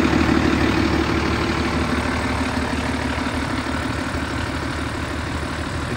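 A 1988 Ford F-800 crane truck with a 7.8 liter diesel engine idles steadily at close range, a continuous low rumbling clatter with no speech over it.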